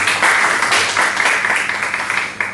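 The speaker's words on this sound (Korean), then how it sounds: "이 두 분 열심히 섬길 수 있도록 여러분 다시 한번 격려의 박수 보내도록 하겠습니다" A church congregation at a Wednesday service applauding in encouragement of two people, a dense, loud, continuous wash of clapping from many hands that swells and slightly fades over a few seconds.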